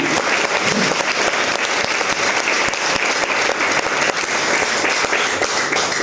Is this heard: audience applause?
yes